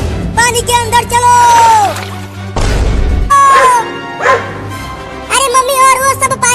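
Two dogs bark in sharp bursts, close and loud, with yelps and whines, mixed with crashing noises and voices talking.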